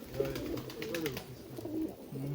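Tashkent pigeons coo steadily, their low, soft throaty calls repeating close by in overlapping phrases with no speech.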